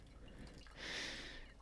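Hot water is poured over ground coffee in a pour-over brewer, a soft close hiss of liquid lasting under a second at low volume.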